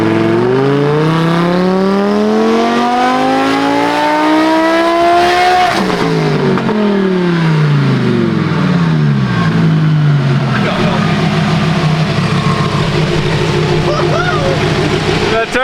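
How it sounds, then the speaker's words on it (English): The turbocharged engine of a Lamborghini with a slight boost leak revs hard and loud, rising in pitch, then drops off with whooshing turbo noises as it accelerates again. "The turbo noises."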